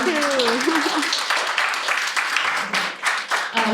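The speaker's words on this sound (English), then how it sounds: "Can we give a round of applause to Karishma?" A round of applause for Karishma Mehta at a founder story event, dense clapping that swells and sustains with a speaking voice briefly audible near the start before the clapping carries on alone.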